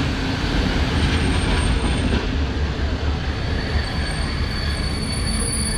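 A CFR Romanian railway train rolls past at steady loud volume, its wheels squealing continuously over the rumble of the cars.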